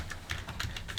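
Quick, even keystrokes clatter on a computer keyboard during a typing game, a close, steady run of light clicks with no talk.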